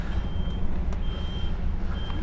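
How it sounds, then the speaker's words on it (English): A UK HGV truck's reversing alarm beeps at steady intervals, fairly near and loud, over a constant low engine rumble from the heavy goods vehicle. "So we're going to reverse out on the main road"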